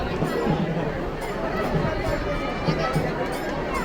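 Dense crowd chatter at a busy village fair, an even murmur of many overlapping voices close around, with footsteps and general bustle and no single sound standing out.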